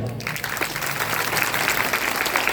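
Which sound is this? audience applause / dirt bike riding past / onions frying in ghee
audience applause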